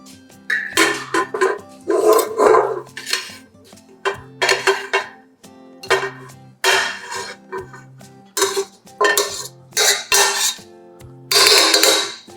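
Butter, powdered sugar, flour and salt are mixed for a lemon bar crust, producing repeated scraping and clattering strokes of a utensil against a bowl in uneven bursts, close and fairly loud, with no talking.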